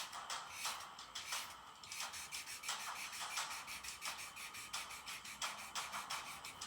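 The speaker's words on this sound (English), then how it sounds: "Listen to your pencil or your marker on the page" A pencil or marker scratches across paper in quick repeated strokes, a dry rhythmic rasping close to the ear, with no talking.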